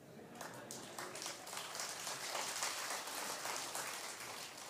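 An audience at a spiritual discourse gathering applauds, a steady crackling wash of clapping that swells and holds for several seconds before easing slightly, heard from within the crowd.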